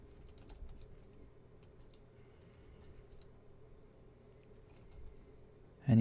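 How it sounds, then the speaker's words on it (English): Light typing on a computer keyboard, a soft steady patter of faint key clicks close by, with a louder thump at the very end. "then we can start typing."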